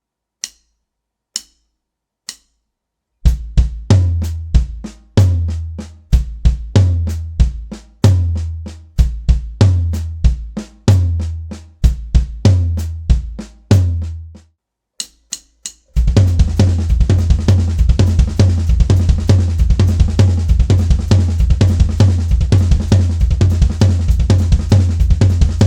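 A drum kit plays a slow nine-stroke triplet pattern of distinct strokes after a few clicks, then shifts into a louder, busier groove with cymbals washing continuously.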